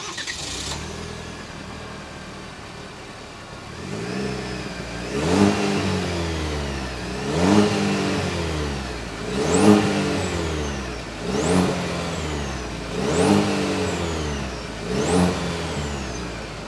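A 2024 GMC Sierra 1500 Pro with the 2.7-liter engine, exhaust heard idling and then revved in five or six sharp, evenly spaced blips that rise and fall back to idle, close and clear with no talk.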